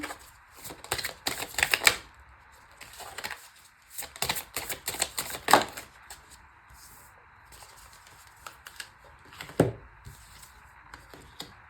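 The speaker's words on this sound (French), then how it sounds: "Alors je vais tout de suite aller tirer 2 autres cartes du même oracle." Oracle cards shuffled and drawn during a French intuitive card reading, a close series of crisp flicking and riffling bursts broken by short pauses, with no speech.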